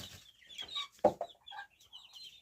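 Chickens cluck softly with a young rooster among chicks in a poultry enclosure, several short close clucks and chirps over a quiet background, one louder sharp call in the middle.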